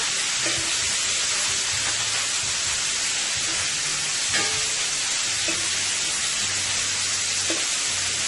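String beans cooking alongside shrimp in a very large single pan, giving a steady, close sizzle with light stirring clicks throughout and no talking.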